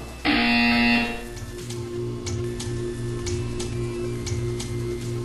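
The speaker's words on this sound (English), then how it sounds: "You will hear a buzzer." A loud, sustained electronic buzzer sounds for about a second in the Portal 2 video game, followed by a steady, quieter ticking that continues to the end.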